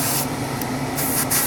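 Spray paint hisses onto a Tamiya Castrol Celica WRC radio-controlled car body, a loud continuous aerosol rush with short sharper bursts as the nozzle is pressed, heard alone and close.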